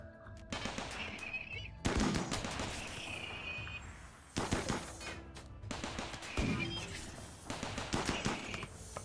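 Bursts of rapid small-arms fire crackle in RimWorld colony combat, repeated volleys and machine-gun rattles coming in clusters over several seconds with brief gaps between them.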